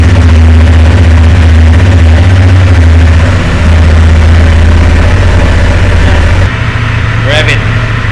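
A Honda XL750 Transalp motorcycle with dual exit exhaust idles close by in a loud, even low rumble, the tone dipping briefly near the end while a voice talks faintly underneath.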